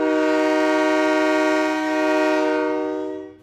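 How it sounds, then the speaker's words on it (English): A big freight train sound effect: a sustained, loud multi-tone horn blast holding steady for several seconds before fading out at the end, with no talking over it. "Our next noise is a big freight train."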